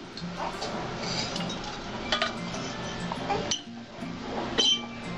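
A karai (wok) set down on a gas stove for frying jute leaves, heard as a few close metallic clinks and knocks over a low, steady background, with a sharper clank near the end.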